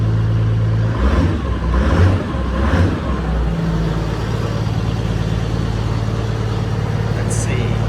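A Toyota Land Cruiser with a 1HD-T turbo diesel engine runs after an injector service, giving a loud, close engine drone with a few rev surges in the first seconds before settling into a steady idle.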